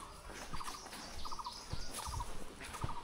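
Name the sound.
coppersmith barbet calling in Satchari National Park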